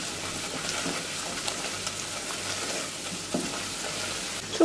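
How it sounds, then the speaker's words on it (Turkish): Tomato paste sautéing in a hot pan with other ingredients, a steady soft sizzle with occasional light scrapes of stirring, close and continuous throughout. "Salçayla da birazcık kavuracağım."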